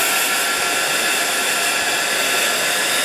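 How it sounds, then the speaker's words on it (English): A heat gun blows steadily close by, drying rice paper laid on glass, a continuous loud rushing hiss with no other sounds. "I'm going to just finish it off with my heat gun again."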